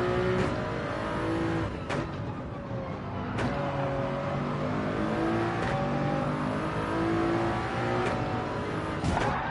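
A Toyota race car in Gran Turismo 7 revs and shifts through gears on track, a raw, gritty engine note rising and falling with repeated sharp gear changes, steady and close throughout.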